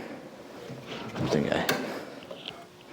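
A small, shallow drawer slides open with a soft wooden scrape and a light knock, a quiet, close sound with faint voice and room noise around it.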